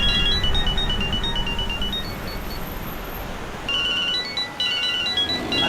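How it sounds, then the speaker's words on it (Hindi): A mobile phone rings insistently indoors with a repeating electronic ringtone melody, steady and fairly loud, pausing briefly midway before resuming, with no talk over it. "अरे साहब फोन बज रहा है आपका"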